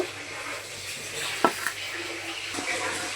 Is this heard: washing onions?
yes